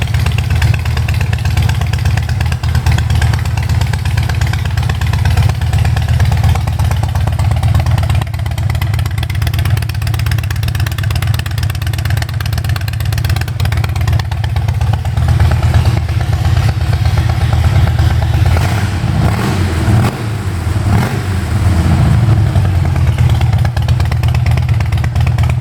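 A Harley-Davidson Heritage Twin Cam with a Stage 1 Vance & Hines exhaust idles close by, a steady loud low rumble with a lumpy throb that swells slightly near the end, with no voices.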